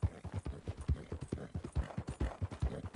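Horse hooves clip-clopping in a video game, a steady run of close, low thudding steps that continue without pause and with no talk over them.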